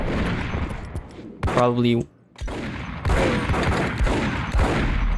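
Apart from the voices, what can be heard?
gunfire in video game Max Payne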